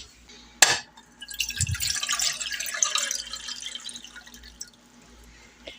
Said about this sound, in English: So we're going to put 2 cups of water into our pan.